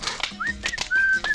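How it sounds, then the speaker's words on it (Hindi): Whistling in a Hindi film scene, a few short rising and held tones at moderate loudness over light rustling and clicks, with no one speaking. "सीटी बज गई, सीटी बज गई"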